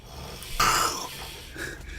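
A person imitates loud snoring with a single rasping, snorting inhale that swells and fades, followed by a softer breathy tail, close to the microphone.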